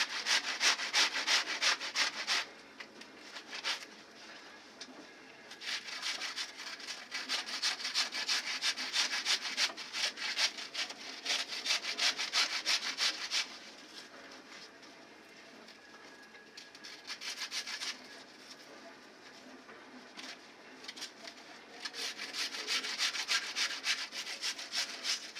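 An onion is grated by hand for German potato pancakes, making bursts of close, rough rasping strokes separated by short quieter pauses, with no talk over it.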